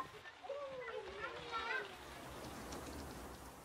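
Soft, steady rain patters on a surface throughout, with a voice speaking briefly near the start over the drizzle.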